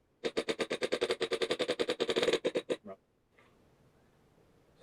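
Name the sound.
AVP-17 gun firing a set of rounds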